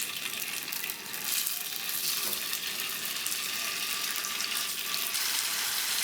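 Tofu and tempeh frying in a pan, a dense hissing sizzle that stays steady and close for several seconds with no talk over it.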